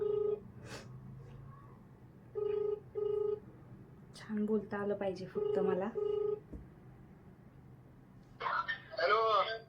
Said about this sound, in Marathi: चला मी आता कॉल लावते त्यांना तर बघूया आता आपला कॉल ते रिसीव करतायत का स्पीकरवर टाकते मी फोन